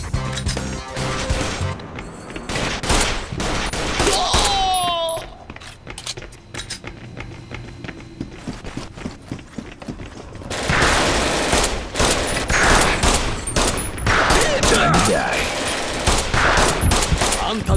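Dense gunfire in an Eat Lead: The Return of Matt Hazard cutscene, with loud rapid bursts and repeated shots running throughout, clanking mechanical noises mixed in, and a slightly quieter stretch in the middle before the firing swells again.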